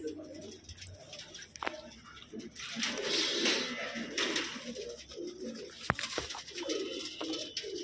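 Punjabi pigeons coo in soft repeated bursts, close by, with wing flutters and a few sharp knocks amid a low murmur of voices.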